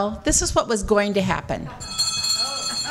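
At a candidates meeting, a bell rings with a sustained metallic tone that lingers after people finish talking nearby.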